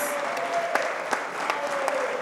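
Steady applause from an audience at a literary awards ceremony honoring young women writers, a dense wash of many hands clapping without pause for a couple of seconds, fairly loud.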